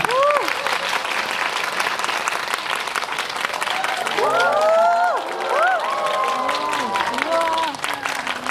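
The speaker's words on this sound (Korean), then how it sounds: "여러분들 큰 박수 부탁드립니다" Sustained applause fills the room at a film press conference as the director and cast are welcomed, a dense steady clatter of many hands with voices talking over it partway through.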